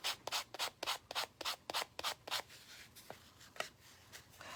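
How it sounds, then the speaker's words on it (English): Cooled resin being sanded by hand on a decoupage book box, about a dozen quick rhythmic scrubbing strokes close by, easing into softer, scattered rubs. "when it's cool, like this one already is, you can sand it"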